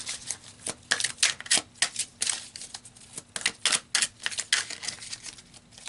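Tarot cards are shuffled close up in a rapid series of crisp, papery riffles and slaps, irregular bursts repeating for several seconds with no talking.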